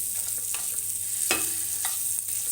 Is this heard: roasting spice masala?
yes